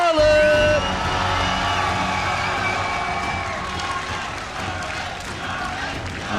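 A large live crowd cheers loudly for the Canadian player Scarlett at an IEM Toronto 2014 StarCraft 2 esports match, with a sustained roar from start to finish under bright game music and tones.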